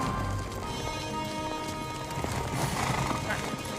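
Horses gallop in a scene from Star Trek V: The Final Frontier, a rapid drumming of hooves with a possible whinny, mixed with film music and ambience at moderate volume.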